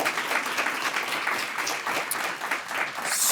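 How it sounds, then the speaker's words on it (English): Steady applause from an audience at a community network meeting fills the room, dense and sustained clapping without a break for the whole stretch. "let's give a round of applause for all of those African Americans"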